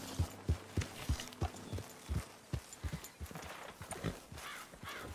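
Horse hooves clip-clopping in Red Dead Redemption 2, a steady run of close, distinct thuds that loosen into a quicker, softer patter toward the end, with no talking.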